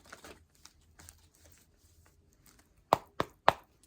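Tarot cards being shuffled by hand, soft faint riffling early on followed by three sharp, close taps as the deck is squared, with no voices.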